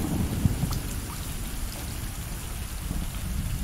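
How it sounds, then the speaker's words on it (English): Steady rain falls in the video game Stray, a dense even hiss of downpour with faint low rumbles underneath, continuous and fairly quiet throughout. "It's currently rainy, so the cats are taking shelter here."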